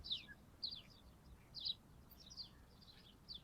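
Small birds chirp outdoors in short, faint scattered bursts, a few calls spread across the stretch over a low steady background hiss.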